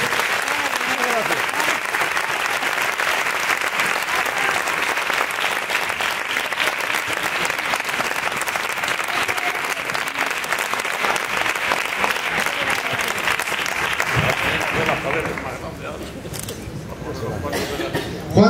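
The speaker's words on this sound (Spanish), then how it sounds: "vamos a darles ese fuerte aplauso" Sustained, loud audience applause at the end of a copla and cante concert, dense and continuous for most of the clip, thinning near the end as voices come through.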